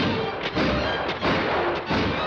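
Cartoon gunshot from a gun-on-a-ladder gag in the 1949 cartoon Swallow the Leader: a few dull, heavy thumps spaced about half a second apart over steady background noise, with no voices.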